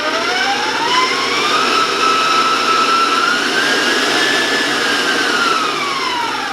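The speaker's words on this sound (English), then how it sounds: "warn you about the sound of the mixer" An electric mixer blends cake batter with sour cream, a loud continuous high whine whose pitch drifts up and down slightly as it runs alone.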